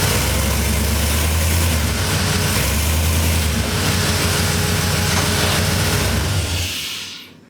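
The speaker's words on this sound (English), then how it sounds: "the truck just effortlessly will spin the tires" A pickup truck's engine roars steadily and loudly at close range while it spins its tires with the brake held, a low rumbling drone that holds for several seconds before cutting off.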